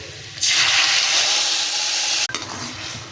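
A loud hiss and crackle erupts as a ground paste for pizza sauce hits hot oil, sizzling steadily for a couple of seconds before a brief clatter and quieter frying.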